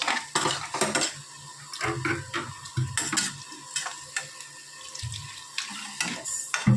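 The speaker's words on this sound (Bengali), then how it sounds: "তারপর জল দিয়ে দিচ্ছি, জল দিয়ে দেওয়া হলো, আর একটু সামান্য জল লাগবে।" Water is poured into a pan of potato and poppy seed curry, with splashing, clinking of utensils against the pan and stirring, close and busy with no talk.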